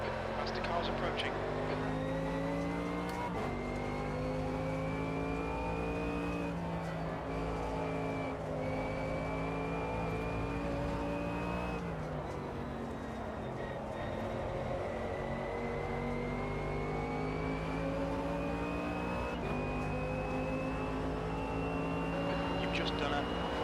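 Race cars in the Automobilista 2 racing game drone steadily with rising and falling engine pitch as faster cars approach and pass. The engine noise continues without a break, and a voice talks over it.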